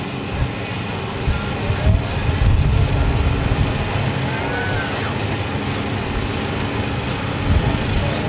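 A yellow 1983 Renault R5 Alpine Turbo with a stainless exhaust at a historic hillclimb event, its engine a loud, steady broadband roar held throughout with slight swells, alongside faint crowd sounds.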